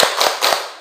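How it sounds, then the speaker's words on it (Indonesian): A classroom group of students performs a rhythmic spirit clap, four sharp, loud claps in a quick pattern, close and without talk. "Tepuk semangat"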